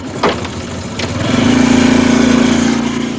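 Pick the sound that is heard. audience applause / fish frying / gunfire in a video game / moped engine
moped engine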